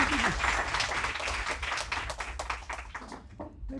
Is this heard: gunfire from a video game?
no